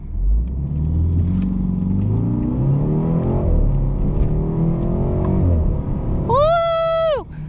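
A BMW 330i launching hard from a standstill, its engine rumbling and building revs steadily for several seconds at close range inside the cabin, with a sharp high whine rising near the end.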